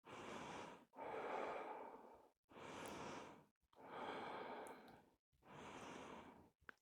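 During a yoga session a person breathes deeply and slowly, close to the microphone, in five long audible breaths separated by short silences.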